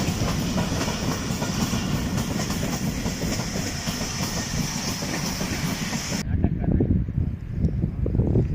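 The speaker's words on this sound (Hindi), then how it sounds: "ये ट्रेन यहाँ तक एज ए KCR चलती है और यहाँ से आगे ये शाह लतीफ़ एक्सप्रेस में कन्वर्ट हो जाती है" The Shah Latif Express at Gaddar railway station in Karachi rumbles past close by with loud, continuous clickety-clack of wheels and a hissing wash that suddenly cuts off near the end, leaving heavy low rumble.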